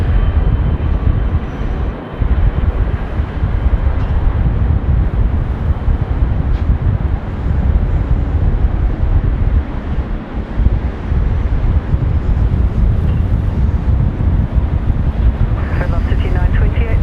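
An airliner takes off on runway 25 at Sydney Airport in gusty wind, producing a loud, sustained jet roar mixed with heavy wind buffeting on the microphone.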